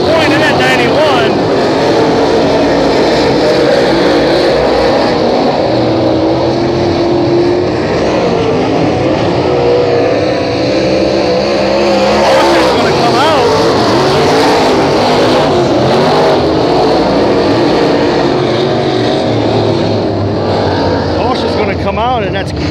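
Race cars running together on a track, a loud continuous engine roar under an announcer's commentary throughout.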